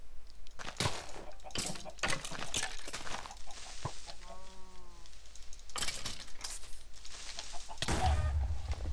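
A Minecraft chicken gives a short series of stepped clucks in the middle, moderately loud, surrounded by game clicks and clatter.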